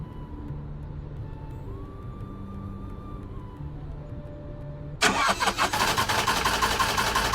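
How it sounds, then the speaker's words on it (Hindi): An expensive car's engine cranks and catches in a quiet, deserted forest, a loud, rough burst of engine noise that roars steadily after a calm stretch of low ambient hum. "अब ये क्यों रुक गई? चलना, इतनी महंगी गाड़ी करोड़ों चुकाए हैं तेरे लिए, और तू इस सुनसान जंगल में धोखा दे रही है।"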